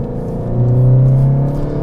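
A SEAT Leon Cupra 300 with a DSG gearbox accelerates, its engine note rising into a loud, steady drone that swells in the middle and eases slightly toward the end, heard from inside the car.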